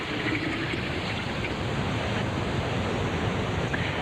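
Lemon juice and cold water pour into a jug for homemade lemonade, a steady broadband rush of liquid running continuously throughout without pause.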